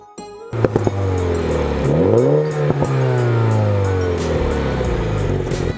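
A Mini John Cooper Works F57 convertible, 231 hp, accelerates hard, its engine note climbing through gears with rising revs and a shift, loud and close, with no talking.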